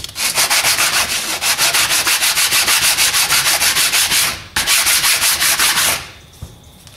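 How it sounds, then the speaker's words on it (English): Sandpaper rubbed back and forth on a small wooden part for a dual action hidden blade, a steady rapid rasping rhythm, close and loud, pausing briefly once before trailing off. "I just need to sand it down a little bit more, hang on."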